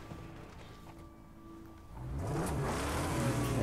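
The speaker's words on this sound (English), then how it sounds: "Stop messing with that engine" A car engine in the Mad Max video game revs up from a low idle into a loud, rising roar that holds steady toward the end, with no talking over it.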